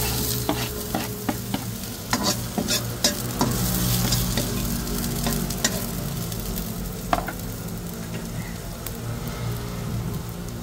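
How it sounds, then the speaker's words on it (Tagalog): Onions sautéing in oil in a pan for Filipino pork adobo, a steady close sizzle with repeated stirring scrapes and clinks of a utensil against the pan throughout, with no talking. "So, gisa-gisa lang muna natin."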